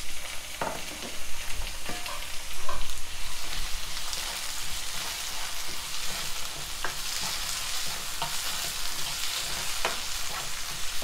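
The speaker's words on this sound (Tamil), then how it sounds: "இப்போ தக்காளி நல்லா வேகிற வரைக்கும் இதை வதக்கிக்கலாம்." Tomatoes sautéing in a pan for palak paneer: a dense, steady sizzle like light rain fills the clip, with occasional soft scrapes of a spatula stirring, close and continuous, no talking.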